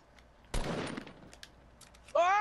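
Rapid M16 rifle fire from a multiplayer video game crackles in a short dense burst, followed by a few scattered shots and ending with a voice shouting over the noise.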